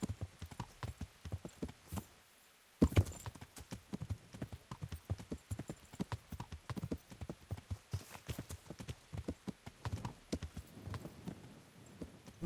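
Horse hooves clip-clopping in a medieval role-playing video game, a fast, continuous patter of close, crisp hoofbeats with a brief pause and one louder thud, quiet overall.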